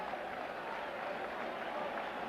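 Steady broadband roar of a huge crowd at a 1998 Yankees versus Mets baseball game in the tense ninth inning, a constant, even wash of distant murmur with no distinct peaks.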